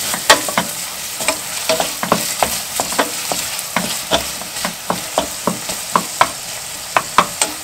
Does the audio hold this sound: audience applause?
no